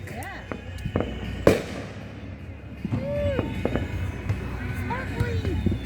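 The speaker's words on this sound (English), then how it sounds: "3 colors in one firework!" Fireworks burst outdoors at a backyard show, one sharp loud bang standing out among scattered crackling pops, with whistling rises and people talking and exclaiming throughout.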